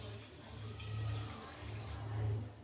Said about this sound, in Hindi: तो यहाँ हम पानी डाल देते हैं